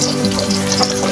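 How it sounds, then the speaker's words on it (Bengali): Beaten egg frying thinly in a hot pan, a steady close sizzle and crackle with no pauses, heard alone during preparation of Chinese-style fried rice. "ডিম আমি অল্প অল্প করে ভাজবো, 2 বার করে।"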